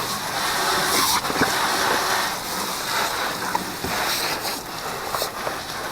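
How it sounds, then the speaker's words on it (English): A pressure washer sprays water across a truck in a loud, continuous hiss, with brief splashing bursts as the jet hits the bodywork. "That's the test right there, that pressure washer."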